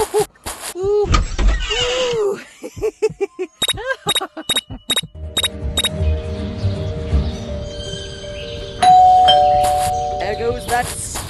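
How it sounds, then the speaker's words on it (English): A doorbell in the video game Scary Teacher 3D rings in a quick series of sharp, bright chimes over cartoonish game sounds and voices, then gives way to a sustained musical tone. "There goes that stupid bell again."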